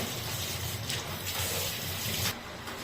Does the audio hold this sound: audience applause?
no